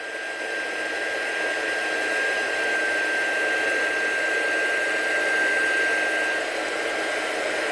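A heat gun blows hot air onto a black ink image in a steady, loud, unbroken whoosh with a faint high whine, close by and running alone.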